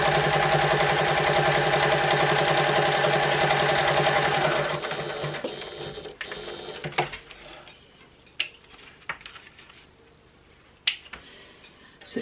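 A sewing machine stitching along a wallet edge, a steady close whirring run for several seconds that then stops, followed by scattered light clicks and taps of handling and thread work, no talk.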